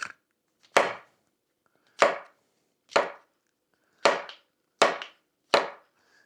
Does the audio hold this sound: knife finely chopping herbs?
yes